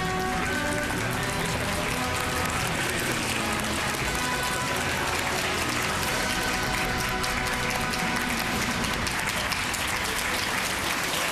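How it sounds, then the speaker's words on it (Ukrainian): Loud, sustained studio audience applause fills the room on a Russian television talk show, dense steady clapping from a large crowd with no pauses, heard on its own without speech. "спасибо за бурные аплодисменты"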